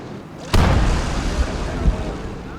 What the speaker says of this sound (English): They brought in heavy artillery.